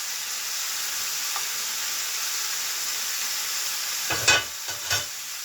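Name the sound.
chicken searing and sizzling in a pan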